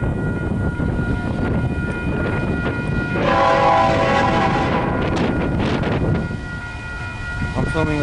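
Passing train at a railroad crossing sounds a K5LA five-chime horn, a brief harmonic blast partway through over a steady rumble of cars and heavy wind buffeting the microphone.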